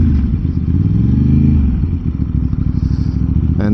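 A 2026 Aprilia RS 660 motorcycle engine with a quick shifter drones loud and close, pulling steadily with rising and falling pitch as gears change, under strong wind rush.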